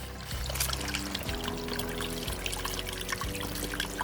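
Water trickles and pours steadily through a drainage channel along a hiking trail in an Arkansas state park, a close, continuous splashing flow with no voices.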